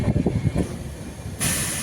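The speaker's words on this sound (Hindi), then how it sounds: "बस कुछ ही देर में ये ट्रेन प्रयागराज स्टेशन पर पहुंचने वाली है" Prayagraj Express train rolling toward Prayagraj station, a steady rumble of rail cars with rhythmic low thumps early on, then a bright hiss rising near the end, loud and close with no talking.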